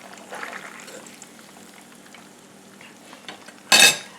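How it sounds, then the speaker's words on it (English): Used cooking oil is poured into a new pan, giving a quiet, low trickle in a kitchen that ends in a short, loud splashing clatter. "I'm just going to pour this to a new pan"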